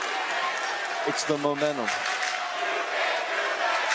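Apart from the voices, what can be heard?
basketball crowd cheering in gym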